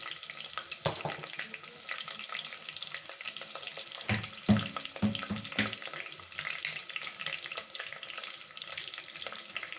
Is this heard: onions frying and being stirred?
yes